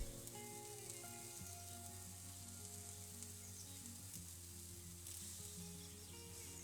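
Eggplant slices fry in a pan, a steady close sizzle with faint oily crackles running throughout, even and unbroken with no voices.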